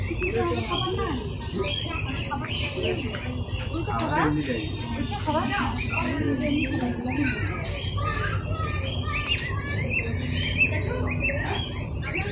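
Sparrows chirping at a zoo, a busy chorus of small overlapping tweets over steady outdoor background noise, with people talking throughout.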